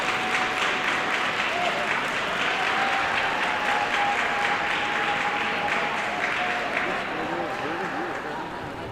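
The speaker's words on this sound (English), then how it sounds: "giving everybody a chance to get their applause on" Sustained audience applause fills an indoor dog show arena during herding group judging, steady and dense for the full stretch, with a faint voice or tone running underneath.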